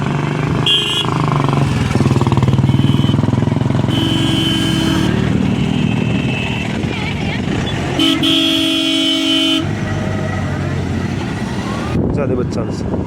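Car reversing in the crowded parking area of a Mahashivratri fair in Pithoragarh, with loud, close engine noise and repeated horn toots from nearby motorcycles and other traffic throughout.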